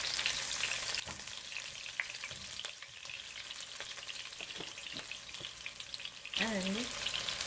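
Onion frying in about two tablespoons of hot oil in a non-stick pot for saltfish and tomatoes, a steady close crackling sizzle with a few stirring knocks and a brief squeak near the end.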